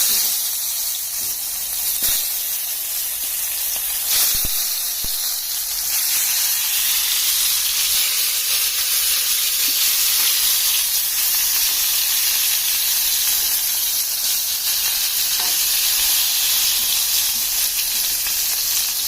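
Sliced eggplant (brinjal) sizzles steadily in oil on a hot tawa over a low flame, a continuous loud hiss and crackle with no talk over it.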